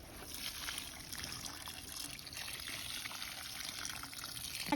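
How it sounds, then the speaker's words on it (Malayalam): Water poured onto soil around a freshly planted hybrid papaya seedling, a faint, steady trickle and splash outdoors with no talking. "ഇനി കുറച്ച് വെള്ളം ഒഴിച്ചെടുക്കാം."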